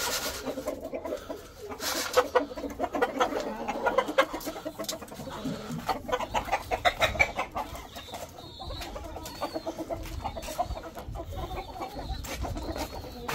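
Hens cluck and chatter nearby in short repeated bursts, with scattered bird calls and rustling in the background.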